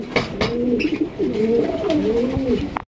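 Pigeons coo close by, a pair of large birds at a pigeon market, giving a series of soft rolling, low-pitched coos over a busy background.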